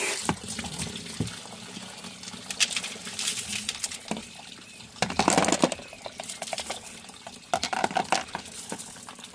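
Water runs and splashes over tumbled stones in a bowl, uneven pouring and patter with louder bursts of rinsing midway and rattly clicks of stone.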